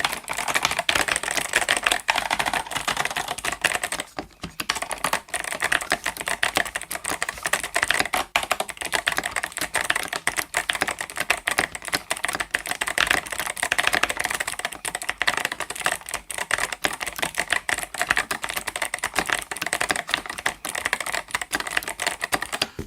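Steady, rapid typing on an 8BitDo Retro mechanical keyboard, M Edition, fitted with Akko Rosewood switches, giving dense, continuous key clacks close up with only a brief pause and no talk.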